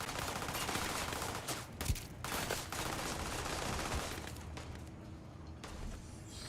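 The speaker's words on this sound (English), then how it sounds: "Man, who else is shooting at me?" Sustained gunfire in the video game Starfield, a dense fusillade of rapid shots running continuously at moderate loudness with a few sharper cracks mixed in.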